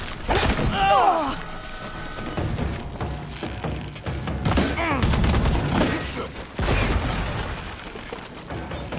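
Heavy gunfire and shattering impacts in a Horizon Forbidden West battle roll on as a loud continuous barrage, with voices calling out beneath the noise.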